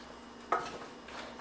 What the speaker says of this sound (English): So we're mixing it around right now.